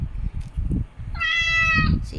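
A cat meows in a long, clear, drawn-out call amid the background hubbub of Changi Airport, rising over steady low crowd and hall noise.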